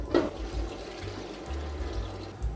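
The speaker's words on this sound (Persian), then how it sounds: "همینطور که دقت می‌کنید آب کاملا در حال جوشیدنه" Water boils hard in a cooking pot on a stovetop, a steady rolling, bubbling rush with low churning that holds throughout, close and continuous with no talk.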